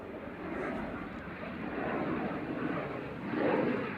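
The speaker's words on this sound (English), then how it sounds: "So this is the Cirrus Vision jet departing to Zurich" A Cirrus Vision Jet, the single-engine jet with its engine mounted on top at the back of the fuselage, departs Manchester Airport. Its engine roars and rumbles from a distance as a broad steady wash that swells slightly toward the end.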